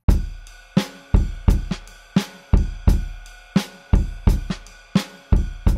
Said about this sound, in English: Do you want your drums to sound like this?